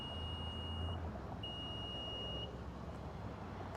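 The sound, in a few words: Infiniti QX55 tailgate height-setting beeps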